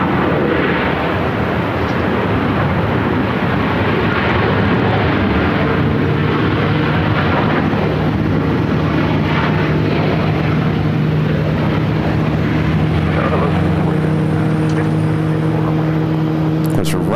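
A jet arriving on Runway 8 at Phoenix Sky Harbor Airport roars steadily in a dense, loud engine rumble with a rising whine, while a voice talks over it.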